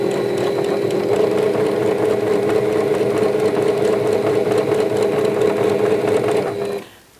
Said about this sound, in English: Now I'm going to grab the strip and I'm going to sew